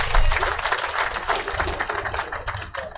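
An audience at the commissioning of a gas power plant breaks into dense, steady clapping, close and sustained for the whole stretch, tapering slightly at the end.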